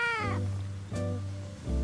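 A cat meows several times in a row, with drawn-out, wavering cries that are close and clear, with no other sounds behind them.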